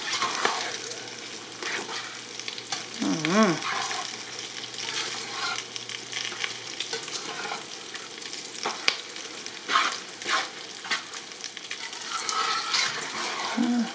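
Minced onions sizzle in a pan for chili mac, a steady close frying hiss with occasional stirring scrapes and clinks throughout, at moderate loudness.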